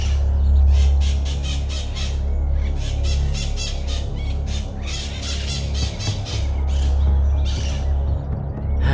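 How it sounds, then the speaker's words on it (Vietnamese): A flock of wild parrots in an animated folk tale squawks and squeals loudly and continuously in overlapping, rapid calls above a low steady hum, close and without speech. "Này đàn vẹt rừng"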